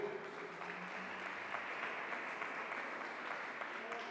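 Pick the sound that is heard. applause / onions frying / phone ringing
applause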